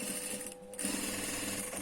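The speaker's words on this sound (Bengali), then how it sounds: "এখানে ব্যাগ স্টিচ দিয়ে কলারের মাথাটা সেলাই দিব" A sewing machine runs a back stitch along the tip of a garment collar, a steady close mechanical whir with a brief drop partway through before it resumes.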